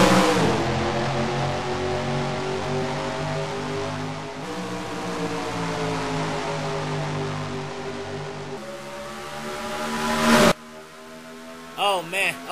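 Stock cars roar away at the race start in a NASCAR video game at Phoenix, with a loud sustained engine drone rising in pitch, a couple of gear shifts, then a cut to quieter passing engine whines.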